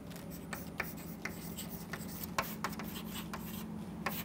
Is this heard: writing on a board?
yes